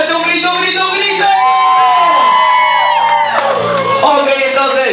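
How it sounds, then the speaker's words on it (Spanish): A crowd of women in a zumba class shouts and whoops loudly together in a sustained, near, overlapping burst of yells that swells and dips over several seconds. "empezamos con un warm up a calentar, chicas. Ok, vamos a empezar entonces con un grito bien fuerte, un grito, grito, grito."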